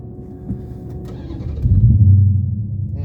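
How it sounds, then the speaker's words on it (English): A Top Alcohol Dragster at an NHRA national event drag strip in Baytown, Texas: a low engine rumble building after a soft start, swelling into a loud, sustained roar heard from a distance. "I think that's Top Alcohol Dragster running right there"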